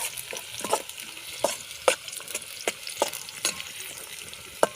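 Chopped onions frying in hot oil with fried peanuts for Vidarbha-style tarri pohe, a steady sizzle broken by sharp scraping clicks of a spoon stirring the pan at irregular intervals.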